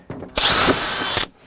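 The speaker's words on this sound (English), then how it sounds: "I'm gonna pre-drill these holes now so it doesn't split again on us." Power drill pre-drilling holes in wood for stairwell lighting installation, one loud, steady whine lasting just under a second, with faint mechanical clicks before and after.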